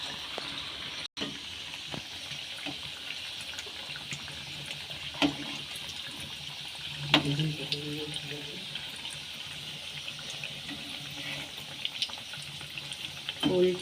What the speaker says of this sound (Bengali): মুচমুচে করে ভেজে নেব।